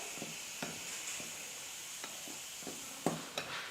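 Batter for a soft cake being stirred by hand in a steel cup as milk is added bit by bit, with soft scraping strokes recurring irregularly, quiet and close with no talk.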